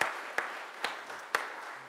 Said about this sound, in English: So if we can just clap up for the leaders and just for the everything one more time.